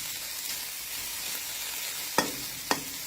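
Sour fermented fish roe, made from Mekong river fish, is stir-fried in a pan with a steady moderate sizzle, followed near the end by two sharp clicks of a utensil against the pan.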